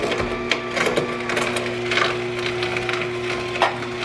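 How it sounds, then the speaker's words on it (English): A slow juicer hums with a steady low motor drone while its auger grinds and crushes produce, giving off intermittent crackling, splintering bursts over the continuous whir. "It's a slow juicer, so it's a high torque. Low speed, but high torque."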